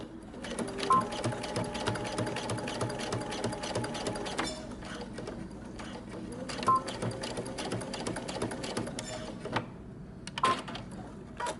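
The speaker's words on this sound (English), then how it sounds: "I'm just going to stitch down, back stitching at the beginning and at the end" Sewing machine stitching across the bottom hem of a men's knit top, back stitching at each end: a rapid mechanical whir in two main runs with a brief pause between, plus small clicks and taps.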